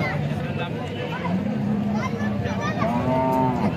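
A cow at a busy cattle market lowing in a drawn-out moo near the end, over a dense crowd din with people talking close by throughout.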